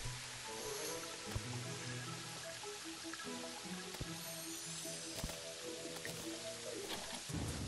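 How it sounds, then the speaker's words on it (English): In Terraria, a flesh bolt from a blood clot staff bursts into blood droplets, giving a steady wet dripping and squishing patter with scattered small splats under a constant bed of game sound, and no speech. "Sends out a flesh bolt that splashes into blood droplets."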